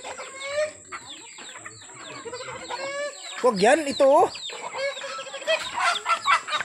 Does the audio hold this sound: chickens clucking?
yes